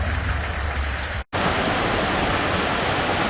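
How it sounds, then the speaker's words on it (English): A snowmelt waterfall at McHugh Creek makes a loud, steady roar of falling water close by, with one brief dropout partway through and no voices. "I like these waterfalls that appear when the snow melts or if it rains."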